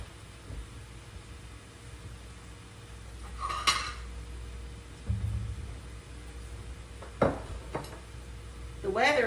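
A plate is pulled out from among dishes in a home kitchen while smoked sausage and cabbage cook. A few sharp ceramic clinks and knocks sound close by over a faint steady background hiss.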